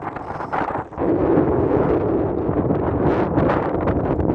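Outdoor wind buffets the microphone in a cold, blustery setting, a loud, rumbling roar that dips briefly and then holds steady without speech.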